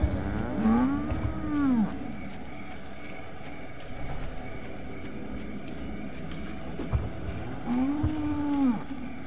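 Cartoonish cow moos from the video game The Cows are Watching, two long rising-and-falling calls near the start and end over a busy, clicky game soundscape, fairly loud and close.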